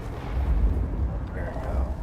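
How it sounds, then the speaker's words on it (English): Gunfire in Vampire: The Masquerade – Bloodlines 2 plays as a steady, dense rumble of muffled shots and low booms on rooftops, continuous across the whole stretch at moderate loudness. "There's a lot of shots."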